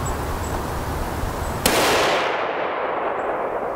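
A single loud 300 Winchester Magnum rifle shot firing 180gr AccuBond ammunition outdoors, a sharp crack followed by a long rolling echo that fades away.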